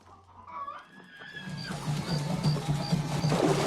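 Chickens cluck in a scene from the 1994 film Interview with the Vampire, with shrill bird calls and a rising, busy clucking that grows louder toward the end.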